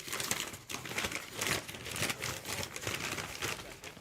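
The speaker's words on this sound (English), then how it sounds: "Can you hear the rustling?" A plastic biltong snack bag crinkles and rustles continuously at close range, with irregular crackling bursts and no clear voices.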